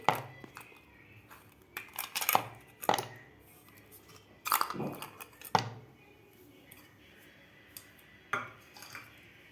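Ice cubes drop into a mixer jar of mango lassi, a series of sharp clinks and knocks scattered irregularly, close and fairly faint, with no talking.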